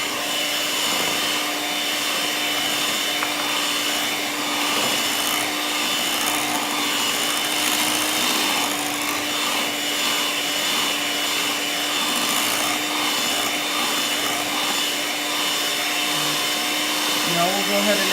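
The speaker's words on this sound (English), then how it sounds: "Now notice I'm switching my blender from medium speed to high speed." A blender whips cheesecake batter at high speed with a loud, continuous, steady whirring drone that carries a constant motor hum and holds without a break for the whole stretch, close to the listener and uninterrupted by talk.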